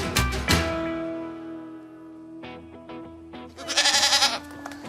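Goats bleating nearby on a farm, a loud drawn-out wavering cry first, then shorter bleats and a final rough, shaky call.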